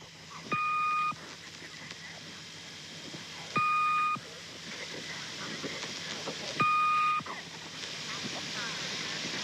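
A shortwave numbers station broadcast, the Swedish Rhapsody: three identical electronic chime phrases repeat at even intervals over steady radio static and hiss.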